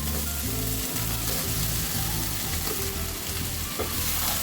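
Taro stolons (loti) frying in oil with small shrimp, a steady loud sizzle and crackle that runs unbroken throughout, with occasional stirring scrapes in the pan.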